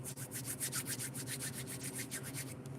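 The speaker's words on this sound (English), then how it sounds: "here's the sound of my hands rubbing together" Close-up hands rubbing together, a steady dry brushing friction with rhythmic strokes, loud and alone for about three seconds.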